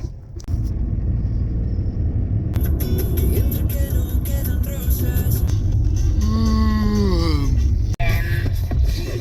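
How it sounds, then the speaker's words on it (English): A Fiat Panda driven over rough roads: continuous loud low cabin rumble and road noise with engine drone, rattles and brief shifts in pitch, heard from inside the car, with no clear talk. "Trying to drive in a Fiat Panda down those roads is just not what the Fiat Panda is made for."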